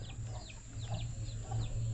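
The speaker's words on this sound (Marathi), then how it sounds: "आई कोंबड्यांकडे बघते कोंबड्या बघा किती" Chickens cluck in short, chirpy bursts a few times over a steady low hum, fairly close by.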